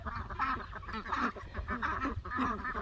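Chickens and a turkey gather to eat freshly pulled weeds, with a steady din of clucking, honking and squawking calls close by, overlapping continuously without pause.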